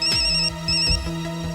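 A phone ringtone plays, a bright repeating electronic melody, loud and close, with no talking.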